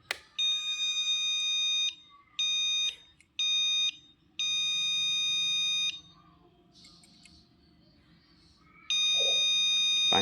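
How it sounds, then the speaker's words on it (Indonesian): A Honda motorcycle ECU connectivity test giving warning beeps for an ID mismatch: loud, clear electronic tones in a long-short-short-long pattern, the pattern starting to repeat at the end, with faint background noise in the gaps. "Panjang, pendek, pendek, panjang. Nah, itu indikasi bahwa ID-nya itu nggak sama."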